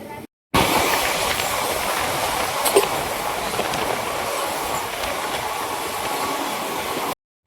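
A large train locomotive at a railway station gives off a loud, steady hiss and rumble that holds evenly for several seconds, starting and stopping abruptly.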